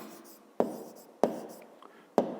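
Pen writing by hand in a fifth-grade math exercise book: soft scratching strokes punctuated by three sharp taps of the pen, close and quiet with no talking.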